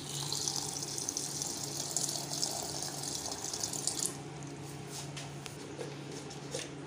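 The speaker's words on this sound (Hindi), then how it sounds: "और पानी इसके अंदर हम ऐड करेंगे हस्ब ज़रूरत।" Water poured steadily into a falsa juice mixture for about four seconds, a soft splashing stream that then stops, leaving faint handling sounds.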